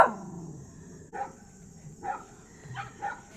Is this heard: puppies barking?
yes